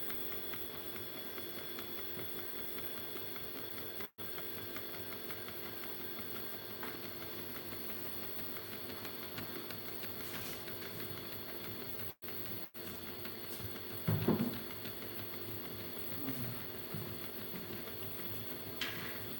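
A 3D printer running at 50 millimeters per second, a steady mechanical whir and soft stepper buzz continuing evenly, with a brief louder clatter partway through.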